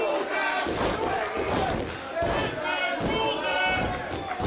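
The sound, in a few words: wrestling crowd chanting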